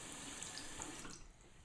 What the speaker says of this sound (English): So what I'm going to do is turn the water on